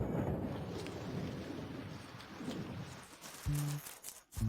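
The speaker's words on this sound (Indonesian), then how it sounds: "Ibu, hujan turun." Steady rain falls with a rumbling, thunder-like low roar that fades toward the end, followed by a couple of brief tonal sounds.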